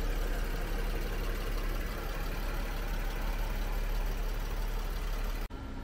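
A 2021 Volkswagen Atlas 3.6L V6 SE R-Line idles with the hood open, a steady low engine drone heard close at the engine bay, constant and unbroken until a brief cut near the end.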